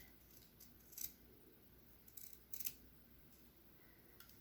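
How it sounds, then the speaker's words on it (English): Scissors snipping through Red Heart Boutique Ribbons yarn at a crochet ruffle boa scarf, a few quiet close snips spread across a faint, otherwise hushed room. "I'm just going to cut along the line here, just shy of that end thread that ties this all together."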